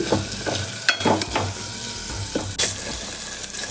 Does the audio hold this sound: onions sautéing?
yes